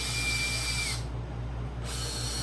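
An electric drill with a drill bit working on a DIY box filter, giving a loud, continuous motor whine with a steady pulsing hum underneath, close up and with no voices.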